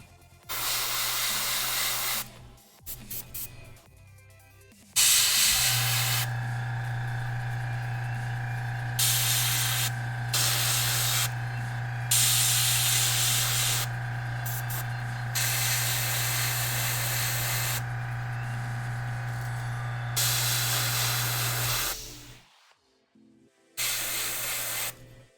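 A new airbrush sprays paint in long, steady hissing bursts, loud and close. Short pauses break up the spraying, and a low steady hum runs beneath it.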